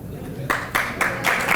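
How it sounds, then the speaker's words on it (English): Banquet audience clapping for Chancellor Lawrence B. Alexander at a homecoming donors event, a short burst of close, crisp hand claps coming in quick, regular pulses. "Let's give him a round of applause, everyone"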